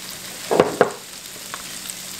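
Cabbage frying with fat back in a pan gives two quick sizzling bursts as it is stirred, close and fairly clear, followed by a softer steady hiss.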